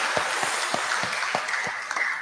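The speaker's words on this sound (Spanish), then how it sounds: "Nuestros aplausos que llegue a ella. Fuerte el aplauso." Mass congregation applauding a parishioner's 63rd birthday in church, a steady broadband patter of many hands sustained throughout at moderate level, with no talk over it.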